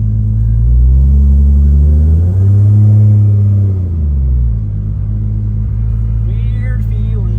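A Nissan R32 Skyline GT-R swapped to a TH400 automatic gearbox drives along, its engine a loud, steady low rumble that swells and eases as it pulls, heard close from inside the car.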